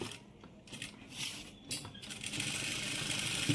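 A sewing machine stitches cloth next to canvas, giving a quiet mechanical whir that starts unevenly and then settles into a steady run, heard close and alone.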